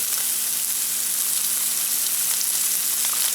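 Spam sizzles in olive oil in a pan, a steady, dense hiss and crackle that holds evenly throughout, close up and alone with no voices.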